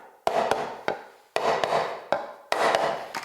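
Hammer lightly tapping a glued wooden joint on a high round stool: six sharp woody knocks in uneven rhythm, close and clear, with no talk.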